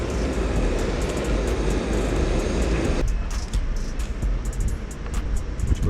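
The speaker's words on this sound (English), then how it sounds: "Gonna give it one more little torch." A kitchen blowtorch sears sushi at a Homakase omakase counter in Brooklyn, NYC, giving a loud, steady roaring hiss for about three seconds before cutting off to quieter room background.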